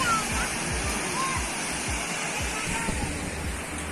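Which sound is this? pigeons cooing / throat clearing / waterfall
waterfall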